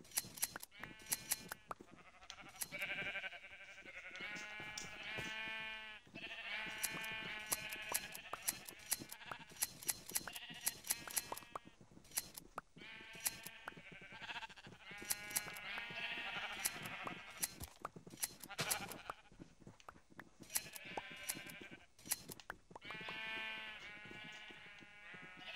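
Repeated sheep bleats from a video game overlap one another continuously over busy background noise, loud and close, with a steady chorus quality throughout.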